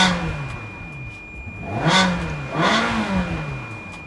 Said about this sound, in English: start it up for you guys just so you can hear this V8 motor